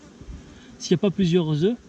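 Honeybees buzz in an open hive during an inspection, a close, steady hum whose pitch rises and falls in a few bursts over about a second.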